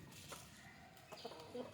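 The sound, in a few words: hen fighting a rooster, chickens clucking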